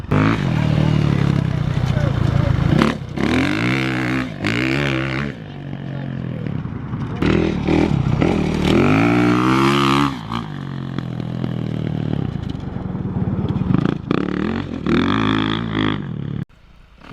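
A motorcycle ridden at sundown, its engine droning and shifting in pitch throughout with some clattering, under a voice talking.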